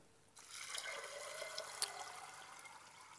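Water runs steadily onto a tray of dried mung beans set out for sprouting, a soft continuous splashing trickle with a few small drips, close and fairly quiet.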